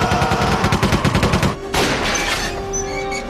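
Rapid volleys of gunshots from an action-adventure film scene, a loud burst of repeated shots for about a second and a half, then a sharp blast followed by lingering ringing and background rumble.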